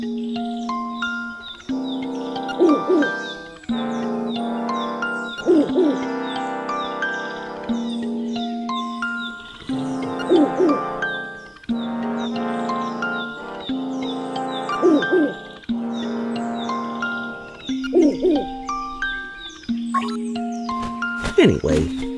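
Mr. Owl from Link's Awakening on Switch hoots and chatters in repeated patterned bursts over game music, a steady cycle of synthetic owl-like calls running throughout.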